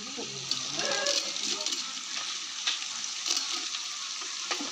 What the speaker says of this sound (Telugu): ఇప్పుడు టమాటా వేసుకుంటాను సరిపడే